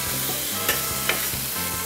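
Shrimp and egg frying in a pan during a pineapple curry fried rice preparation, with a steady sizzle and two brief scraping clatters as the food is stirred and flipped.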